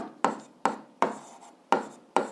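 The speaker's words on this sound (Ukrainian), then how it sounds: "так і записуємо" A pen writes out an algebra exercise on paper in five sharp, evenly spaced strokes, each a short scratchy rasp that fades quickly, close up and otherwise quiet.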